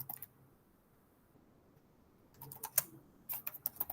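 Fingers type a prompt on a computer keyboard, a short flurry of close key clicks at the start, a quiet pause, then quicker uneven tapping toward the end.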